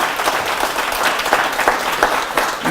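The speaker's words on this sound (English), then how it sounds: "But yeah, if everybody could just give John another quick round of applause" An audience applauds in a dense, steady burst of clapping that carries through without pause.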